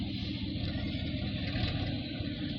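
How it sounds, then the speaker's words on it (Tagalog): Dump truck engine rumbling at a stone quarry during loading, a deep steady low drone running continuously and close by. "May dump truck guys, nagkuha og bato."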